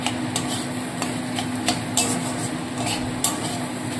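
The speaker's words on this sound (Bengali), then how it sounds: "আমার ডিমের ঝুড়ি ভাজা রেডি হয়ে গেছে" Egg bhurji stirred in a hot pan: a spatula scrapes and taps the metal in an irregular rhythm over a steady close sizzle, with no talking.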